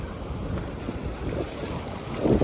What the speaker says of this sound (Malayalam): കാരണം നല്ല കാറ്റുണ്ട് ഇവിടെ.